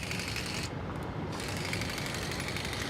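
A Trim'r Matic electric hand-held trimmer cuts a sage plant with a dense, steady buzzing rattle close up. The sound runs without a break and has a brief dip in its hiss partway through.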